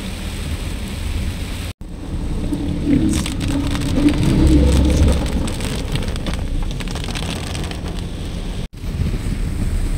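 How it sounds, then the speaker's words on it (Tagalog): Steady rain and road noise wash through a moving vehicle on a coastal road in Quezon, Philippines, a constant broad rushing hiss with two brief dropouts and no talking. "Ang sarap-sarap kahit umuulan."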